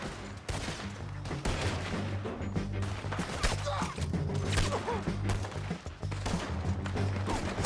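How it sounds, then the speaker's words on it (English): Repeated gunfire crackles through a shootout in the video game Red Dead Redemption 2, a steady barrage of sharp shots over low rumbling game sound and music, with a voice briefly speaking. "Guess we're shooting."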